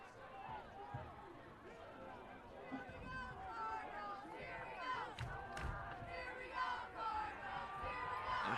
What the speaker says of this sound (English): Student section in their crowd starting to get into it.